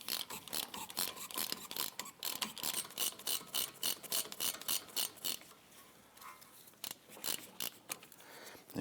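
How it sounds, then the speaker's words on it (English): A ratchet loosens 9mm Allen bolts on the front brake caliper of a 2009-2017 Volvo XC60, giving rapid rhythmic clicking bursts in repeated strokes, close and crisp, with short pauses between runs. "I'm using my ratchet for this. And we want to go ahead and loosen these."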